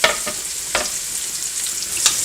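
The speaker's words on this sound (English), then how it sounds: "Add garlic in there. Get that cooking for a little bit." Garlic frying in a pan for a Greek shrimp pasta, a continuous close sizzle with a few short stirring scrapes, no voices.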